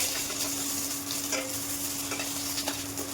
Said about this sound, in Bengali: এই যে আলুটা এবার দিয়ে দিলাম, দিয়ে দেওয়ার পর এটা একটু ফ্রাই হবে